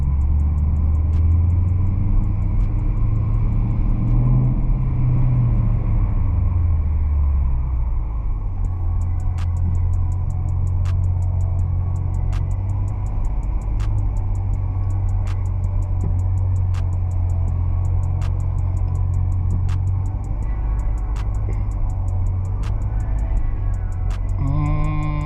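A 2018 Dodge Charger R/T rolls in first gear through a parking garage, its engine a deep, loud, steady rumble that rises and falls as it echoes, with faint regular ticking heard over it.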